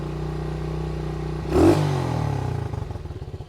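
A pit bike engine revs hard at high RPM, holding a loud, steady whine before a brief surge and clatter, then settling into a pulsing, throbbing drone close by with no talk.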